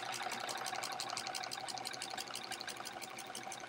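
A sewing machine stitches in the ditch on The Splendid Sampler quilt during horizontal quilting, a fast even needle patter running continuously at low volume, close and without voices.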